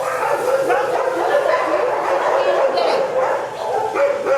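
Hound dogs in Kamenar bark, yip and whimper almost nonstop, loud and close, the high cries overlapping in a continuous chorus.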